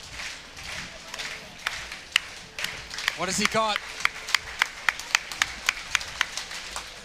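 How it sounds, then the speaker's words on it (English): Rhythmic stadium crowd clapping for high jumper Brandon Starc at the Sydney Track Classic, starting scattered then settling into a steady, evenly spaced slow beat, with a commentator talking over it. "he asks for the crowd. The crowd respond."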